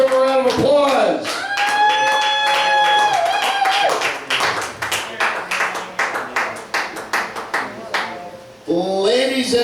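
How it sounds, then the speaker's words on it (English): Audience claps and cheers at a live stage show, starting under a voice and then settling into a run of loud, evenly spaced claps that fade off before talk resumes. "give him a round of applause"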